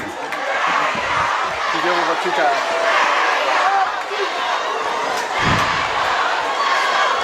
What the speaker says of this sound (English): It's a great crowd. They're enthused. Look at them. They're loud.